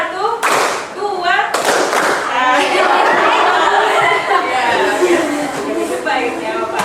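Children clap in rhythm in a classroom, a quick burst of claps followed by a longer dense stretch of clapping mixed with children's chatter and voices.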